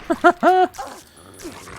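A dog in Fallout 3 lets out three quick, close barks, followed by a faint whimper and softer background noise.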